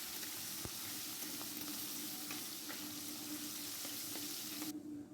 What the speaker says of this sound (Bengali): তো সব চিংড়ি মাছগুলোই তেলের মধ্যে দিয়ে দিলাম আর হালকা করে